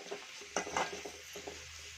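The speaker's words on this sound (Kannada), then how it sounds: "ಈಗ ಚೆನ್ನಾಗಿ ಲೋ ಫ್ಲೇಮಲ್ಲೇನೆ ಫ್ರೈ ಮಾಡ್ಕೊಳ್ಳೋಣ." Onions fry gently on a low flame for kadlekalu usali, a chickpea dish. A soft, faint sizzle runs under a few short stirring scrapes and light clinks from the pan.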